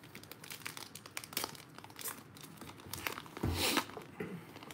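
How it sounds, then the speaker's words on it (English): Topps Heritage baseball card boxes are torn open, with crinkling and tearing of wrappers and cardboard in quick bursts, one louder rip near the end, close by and without talk. "here we go to proceed to open the first nice box"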